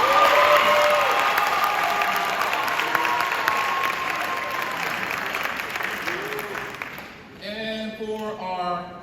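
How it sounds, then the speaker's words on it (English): Audience applause at a middle school cross-country awards night, sustained clapping from a crowd that fades gradually before a speaker's voice returns over the tail end. "Let's give a round of applause for Doug."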